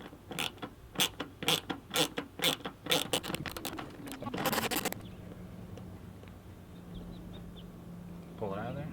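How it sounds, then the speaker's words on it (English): A ratchet loosens a T20 Torx bolt on a Ford F250 third brake light, giving rapid bursts of close clicking that speed up and then stop, leaving quiet room tone. "Stick it in there, and you ratchet it back and forth until that bolt comes out."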